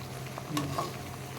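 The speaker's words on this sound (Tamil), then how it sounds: "இப்போ நல்லா கொதிச்சுட்டு இருக்குதுங்க புதினா" Mint leaves sizzle softly in a pan with a few light stirring scrapes, quiet and close, no talking.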